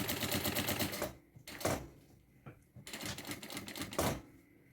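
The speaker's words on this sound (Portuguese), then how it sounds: "Venho costurando meio pé de máquina." A sewing machine stitches a nylon thermal bag in rapid mechanical bursts, loud clattering runs separated by short pauses, close up with no talking.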